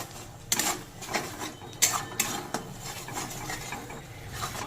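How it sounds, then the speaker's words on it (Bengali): A spoon stirs a paste of black and white mustard ground with spices in a pan, giving a few scraping, clinking strokes over a soft background, close and moderately loud, with no talking. "নেড়ে একটু কষে নেব এই মশলার সাথে"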